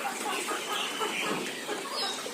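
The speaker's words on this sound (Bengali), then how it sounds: "ছোট লেয়ার মুরগি পেয়ে থাকবেন, যাদের বয়স 50 দিন" A flock of 50-day-old layer chickens clucks and chirps softly in a busy farm shed, the many small calls overlapping into a continuous chatter.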